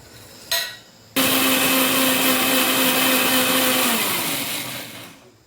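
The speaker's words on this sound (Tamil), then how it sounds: "மிக்சியில் நைஸாக அரைச்சிக்கணும் தேங்காயும் சோம்பியும்" A brief clatter, then a mixer grinder grinding coconut and fennel to a fine paste roars loudly and steadily for several seconds before winding down.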